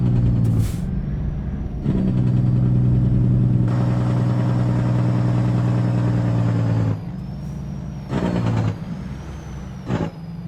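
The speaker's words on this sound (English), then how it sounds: "let's do some engine braking here" Heavy diesel engine braking from a Kenworth W900 Legacy Edition truck in American Truck Simulator, a loud sustained low rumble with bursts of air brake hiss in between, near and without talk.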